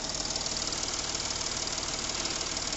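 A Porsche Cayenne 3.0L TDI diesel engine idles roughly with a misfire caused by a bad fuel injector, giving a constant uneven knocking chug, recorded close in the engine bay with no talk.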